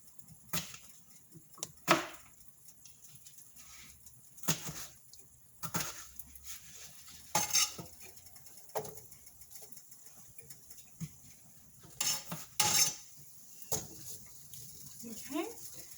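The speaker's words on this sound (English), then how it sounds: "I'm going to go ahead and start throwing them in the pan as I'm cutting them" Raw potato slices dropped one by one into an oiled pan as they are cut: soft, irregular taps and clicks spaced a second or more apart, close and fairly quiet, with a faint background hum.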